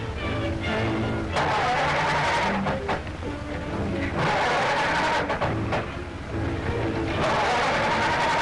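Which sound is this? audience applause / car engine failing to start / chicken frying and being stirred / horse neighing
car engine failing to start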